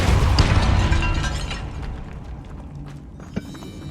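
Depulso spell blast in Hogwarts Legacy, cast inside a tomb: a heavy, close burst that fades into rumbling debris and creaking, with scattered clicks and a small sharp knock near the end.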